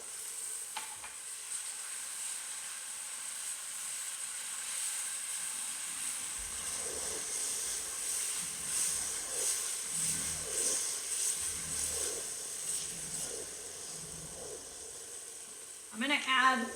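Wine hits a hot pan to deglaze it, setting off a steady broadband sizzle and hiss, with soft stirring scrapes in the middle and a louder burst of bubbling near the end; no one talks.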